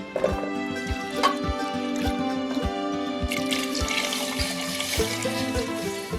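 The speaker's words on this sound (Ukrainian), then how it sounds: "Промиту картоплю заливаємо половиною склянки молока та половиною склянки води." Milk and water pour steadily into a pot of washed potatoes with a running, splashing sound and faint clinks, close by and continuous throughout.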